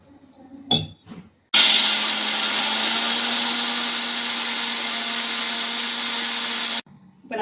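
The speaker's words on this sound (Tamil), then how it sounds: "இஞ்சி பூண்டு எல்லாத்தையும் சேர்த்து போட்டு நான் அரைச்சி எடுத்துட்டு வந்துடுறேன்" Mixer grinder blending mint, coriander, green chilli, garlic and ginger with a little water into a green paste for prawn curry, one loud steady whir running about five seconds, with brief clatters before and after.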